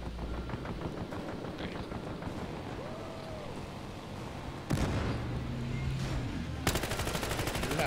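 Gunfire in the video game Battlefield Hardline beta, with rapid automatic bursts and scattered shots amid rushing wind- and water-like ambience, growing louder and denser toward the end.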